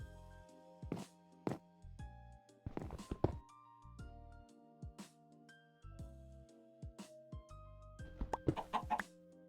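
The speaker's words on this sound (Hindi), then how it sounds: "और थोड़ी देर बाद मेरे पास एक मुर्गी भी आ जाती है" Chickens in Minecraft clucking repeatedly in short irregular bursts, close and clear, alongside occasional thunks and footstep-like taps, with no talking.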